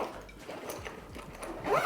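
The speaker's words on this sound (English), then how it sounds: "Zip that up" Zipper closing a backpack pocket on a tech bag, a quick rasping zip of about two seconds, close and fairly quiet, building slightly toward the end.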